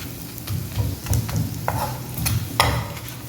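Three dry red chillies frying in a little oil in a pan for a drumstick-leaf dal kuzhambu: a steady soft sizzle with a few scraping stirs and clicks of a spoon against the pan, close up, with no talking.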